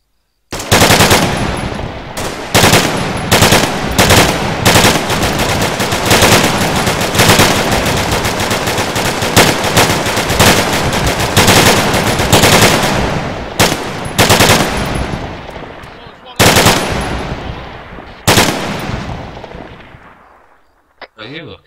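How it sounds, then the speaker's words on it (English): A machine gun fires long sustained bursts of rounds during Operation Herrick, loud and close, the rapid rattling broken by a few short pauses before trailing off, with voices faintly underneath. "We'll have 400 rounds at it, Scott."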